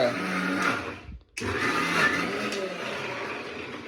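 A kitchen mixer grinder whirs loudly, cuts out briefly, then starts again with a steady high grinding whine.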